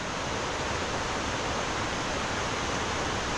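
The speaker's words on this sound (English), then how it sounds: "Oh wow, that's quite a waterfall." A dense, constant roar of rushing water fills the whole stretch, broad and unbroken like a nearby waterfall in Tregargus valley, Cornwall.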